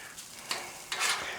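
A spatula scrapes and stirs chicken fried rice with soy sauce on a Blackstone griddle, two quick scraping strokes over a soft, steady sizzle, close and fairly quiet.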